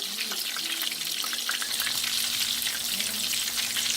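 Battered calamari and whiting fish frying in hot oil, a steady loud dense sizzle and crackle running continuously throughout, close up with no talking.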